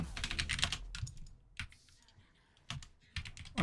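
Rapid bursts of computer keyboard typing during a League of Legends match, clattering in quick clusters with short pauses between, close and fairly loud.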